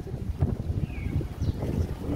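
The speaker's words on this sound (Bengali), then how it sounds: "বাতাস" Wind gusting across a rooftop vegetable garden, a low uneven rumble buffeting the microphone in short pulses.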